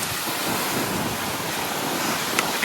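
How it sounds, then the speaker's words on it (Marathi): Big Arabian Sea waves surge against the bastions of Vijaydurg fort, a continuous roaring wash of surf mixed with wind buffeting the microphone, with no talking. "लाटा बघा किती मोठे आहेत."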